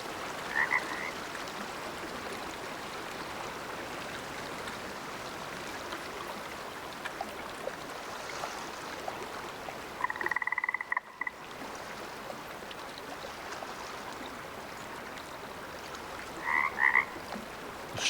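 Frogs croak loudly and continuously in the hunting video game Way of the Hunter, a dense chorus set against a running-water backdrop, with a few sharper bursts standing out near the middle and end.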